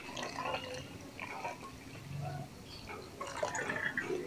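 Water poured over dry coco peat blocks, soft uneven splashes and trickles soaking in with wet squishy patches, close and quiet, coming in short bursts with brief pauses.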